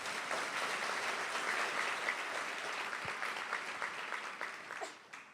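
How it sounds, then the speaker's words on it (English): A convocation audience breaks into sustained applause, many hands clapping in a thick, even roar that holds steady for several seconds before tapering off at the end. "Let's give a round of applause."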